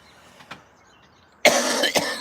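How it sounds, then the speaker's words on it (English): A couple of faint coughs, then a louder, harsher cough burst close by. "that's why you hear me coughing"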